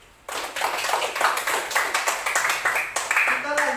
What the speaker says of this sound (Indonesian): tepuk tangan untuk Halik.